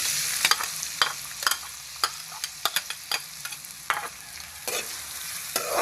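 Chopped onion frying in hot oil in a kadhai, a continuous close sizzle broken by sharp crackles and pops scattered irregularly throughout, with no talking.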